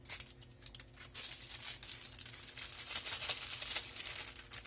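A refrigerated pie crust package is cut and torn open close by before a quiche is blind baked. Crinkling plastic and tearing sounds rustle almost continuously for a few seconds, with no talking.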